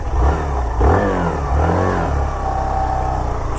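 A Hero Glamour Xtec 125cc BS7 E20 motorcycle engine idles and revs close by as first gear is engaged, a steady low mechanical hum with brief rises in pitch.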